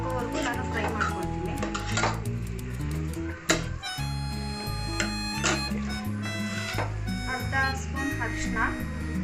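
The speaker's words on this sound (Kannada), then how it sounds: "ಈಗ ಇದು ಹಸಿ ಸ್ಮೆಲ್ ಹೋಗೋವರೆಗೂ ನಾನು ಫ್ರೈ ಮಾಡ್ಕೊಳ್ತೀನಿ" Metal spoon scraping and clinking in a pan as vegetables for a palav are fried and stirred with garam masala and turmeric, with steady scrapes running throughout under prominent background music and a voice.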